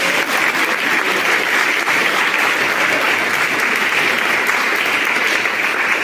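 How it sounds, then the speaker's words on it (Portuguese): Church congregation applauding during a sermon, a thick, even wash of clapping from many hands, loud and unbroken throughout. "Será que você pode aplaudir o Senhor por isso?"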